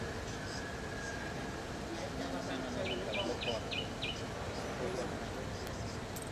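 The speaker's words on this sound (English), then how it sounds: "I can hear the birds tweeting." Birds chirp in short, quick runs of tweets, faint and distant over a constant hiss of background noise on a remote call line.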